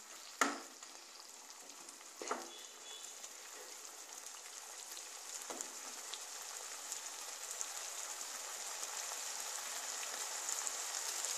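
Pointed gourd in poppy seed paste fries with onion in a pan over medium heat, a faint hiss that grows steadily louder, with a few sharp spatula knocks early on.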